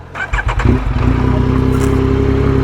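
Close motorcycle engine on a street in Naples: a few uneven revs and putters as it starts, then settling into a steady, loud idle with a regular throbbing rhythm.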